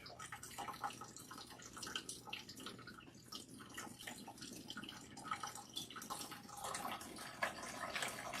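Water running and dripping while natural hair is rinsed after a scalp massage, a faint steady splashing and trickling with small drips, fairly quiet throughout.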